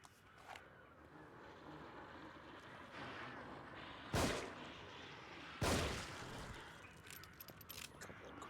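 Pistol shots ring out in The Evil Within 2: two sharp, loud cracks a second or so apart stand out above a quiet, murky game ambience, with a few fainter clicks and knocks around them.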